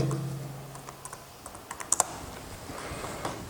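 Computer keyboard keys tapped while a file name is entered in a CAD program's file properties: sparse, irregular clicks, a few sharper ones close together midway, over a faint low hum that fades early on.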